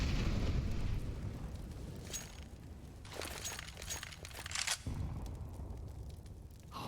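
A grenade goes off in a Counter-Strike match, its deep rumbling blast fading out over several seconds, followed by softer crackling and distant bursts amid in-game noise.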